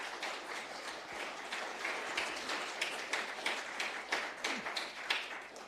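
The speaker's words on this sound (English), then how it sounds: "let's give a big applause to Joseph." Conference audience applauding a speaker after a question session, sustained clapping from a roomful of people with sharp individual claps standing out, continuing evenly for several seconds without speech.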